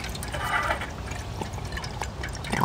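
Tap water pours steadily into a container, a soft continuous trickle and splash heard up close and fairly quiet, with faint background rustling.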